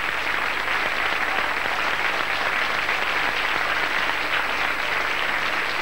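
A studio audience on a Canal 9 television game show gives warm, sustained applause, a dense and even roar of clapping that continues unbroken throughout.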